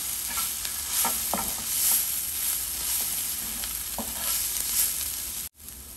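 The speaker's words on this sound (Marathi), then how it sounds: "यातून परत एकदा हलवून घेऊया." Dry taro leaf (aloo paan) sabzi crackles and sizzles in an uncovered pan as a spoon turns it with soft scrapes, close and steady, then cuts off abruptly near the end.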